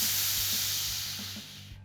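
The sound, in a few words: pressure relief valve releasing pressure from Cornelius keg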